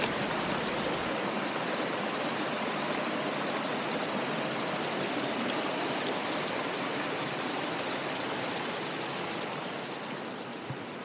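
Rushing river water at a jungle crossing in Peru, a loud, steady broadband roar that stays constant and close throughout, with no voices over it.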